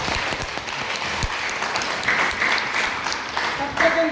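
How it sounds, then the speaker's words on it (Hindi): Applause from an audience at a university seminar on northeast Indian languages in Mizoram, a moderately loud wash of clapping with some faint voices mixed in. "जोरदार ताली होनी चाहिए 3 संस्थानों।"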